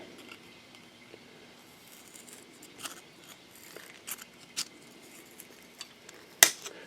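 Snips cutting titanium sheet, a series of scattered sharp clicks and snaps ending in one loud crisp snip, with quiet pauses between cuts.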